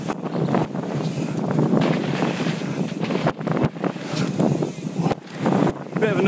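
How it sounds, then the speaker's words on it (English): A strong headwind buffets the camera microphone outdoors, producing loud, continuous roaring rumble with gusty surges and brief dropouts, and a voice is heard under it. "I'm not sure if you guys can hear the headwind coming out of that corner, but it's pretty intense."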